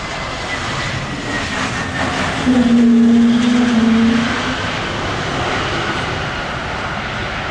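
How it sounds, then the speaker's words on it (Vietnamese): A Vietnam Airlines Airbus A321neo comes in to land with a steady roaring engine rumble, and a brief droning tone swells in the middle before settling back into the continuous wash of noise. "Còn bây giờ là một chiếc máy bay khác, Airbus A321 Neo khác của Vietnam Airlines cũng đang bước vào hạ cánh rồi đây."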